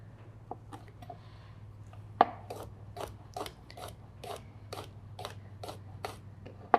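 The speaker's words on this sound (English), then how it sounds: "So I always chop off the ends of these." A knife chops the ends off vegetables on a board, about a dozen crisp, evenly spaced cuts, close and fairly quiet.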